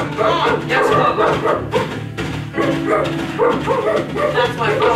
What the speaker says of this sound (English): Mama, go, I can hear the dogs.